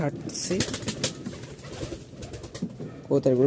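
Pigeons coo softly nearby, with fluttering and rustling movement; a person talks intermittently over the birds.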